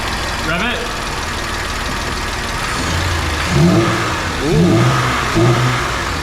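BMW E46 engine revved up from idle a few times, with loud rising and falling swells over a rough, steady running note, and people talking nearby.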